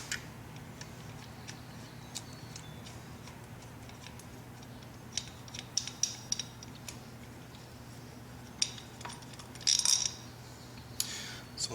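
A ratchet clicks as it backs bolts out of the side panel of a 2008 Yamaha V Star Custom motorcycle, with quiet, close, intermittent runs of rapid ticking and a few sharper metallic clinks near the end.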